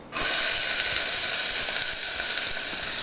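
Half an onion sautéing in olive oil in a pre-warmed pan over medium-low heat, bursting into a loud, steady sizzle right after a brief quiet start and hissing continuously throughout.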